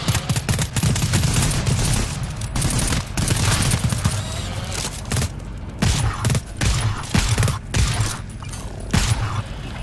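Gunfire from the co-op shooter GTFO comes in dense, loud bursts of rapid shots with short gaps between volleys, sounding close and punchy and lasting the whole stretch, with no talk over it.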